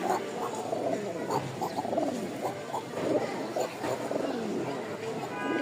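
Rajshahi Giribaz pigeons coo softly and repeatedly in a loft, their low rounded calls overlapping at moderate distance with a faint murmur of background noise.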